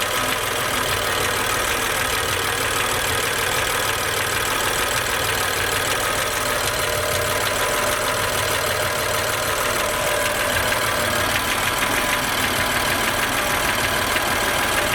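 A cold BMW M3 engine idling with an abnormal noise, a steady dense mechanical drone with a faint ticking knock running continuously throughout, no voices.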